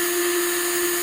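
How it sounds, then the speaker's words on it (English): A small power drill bores holes into an aluminum soda can, a steady high whine held continuously at close range. "Now we're going to drill some holes."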